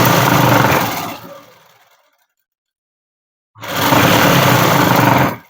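A sewing machine runs fast and loud while stitching a straight seam on scrap cloth for hair bands, a dense close mechanical whir that stops for about two seconds of silence, then starts again in a second burst.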